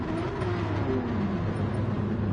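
A Corvette C7 Group 3 race car in Gran Turismo 7 drones continuously at high revs, a thick rumbling roar with no breaks or speech.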